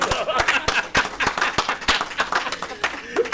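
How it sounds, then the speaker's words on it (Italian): A studio audience at an Italian Sunday television show breaks into dense, continuous clapping, sharp and fairly close, with a voice faintly underneath. "Un applauso!"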